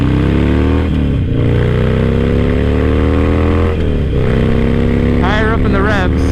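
Harley-Davidson Sportster 1200 fitted with a full Vance and Hines exhaust, cruising on the highway with a loud, continuous engine drone that shifts pitch around gear changes, with wind rush and a brief voice near the end.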